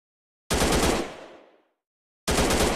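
Automatic gunfire from a mobile shooting game, a loud sustained burst of rapid shots that trails off, then a pause before another burst begins abruptly.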